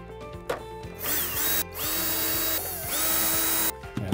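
Power drill driving screws into a Polaris Vac-Sweep 3900 Sport pool cleaner base, several whirring bursts that rise and stop in quick succession, close and clear.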